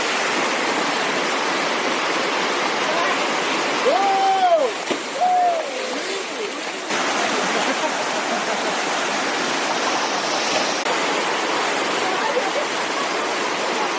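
Steady, broad rushing water of the Toboggan Waterfall in Paraty, Brazil, roars continuously throughout, with a couple of brief tonal chirps partway through.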